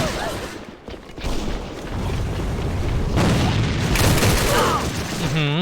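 Rapid gunfire and booms in the online shooter AVA come in dense bursts throughout the short stretch, loud and close, with a voice talking over part of it.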